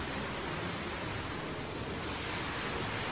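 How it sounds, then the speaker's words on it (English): Winter waterfall in Plitvice Lakes National Park, Croatia, a steady, dense broadband roar of falling water that holds evenly throughout, with no voices over it. "I hope you can see the waterfall behind me."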